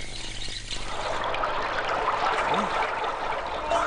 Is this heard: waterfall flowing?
yes